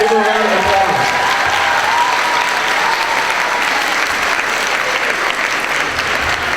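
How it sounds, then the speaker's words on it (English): A school awards assembly crowd applauds loudly and continuously, a dense wash of many hands with a voice briefly heard at the start before the clapping fills the room. "Give them a round of applause."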